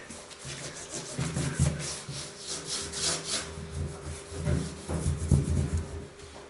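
Outside bottom of a bathtub scrubbed by hand before painting, giving fairly faint, uneven back-and-forth rubbing strokes with no talking.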